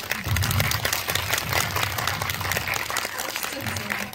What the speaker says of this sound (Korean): 박수 한 번만 부탁드립니다.